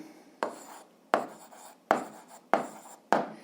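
An equation's solution being written out: five firm, evenly spaced strokes, each a sharp scratchy onset trailing off, close and clear with no voices.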